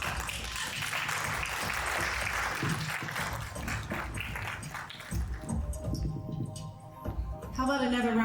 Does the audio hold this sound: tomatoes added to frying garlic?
no